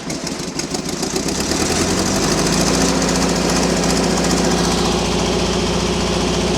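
A large Miller Air Pak 400 welder's engine runs up to full throttle, building quickly to a loud, steady, close drone that holds without a break.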